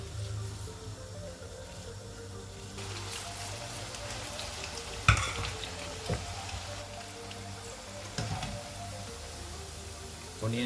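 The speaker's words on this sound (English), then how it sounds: "Onion bhaji go back again." Onion bhaji fry in hot oil, a faint steady sizzle and crackle heard from nearby, with a few louder pops and clatters as pieces are moved, and some low background voice.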